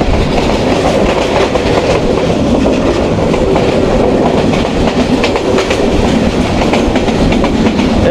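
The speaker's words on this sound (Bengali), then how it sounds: "সিলেট থেকে চিটাগাং যাচ্ছি পাহাড়িকা এক্সপ্রেস ট্রেনে" The Paharika Express passenger train running from Sylhet to Chittagong in Bangladesh, heard from onboard as a loud, steady roar of wheels and carriage rumble with faint rhythmic clicking, no voices.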